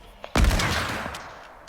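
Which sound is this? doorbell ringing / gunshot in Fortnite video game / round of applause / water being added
gunshot in Fortnite video game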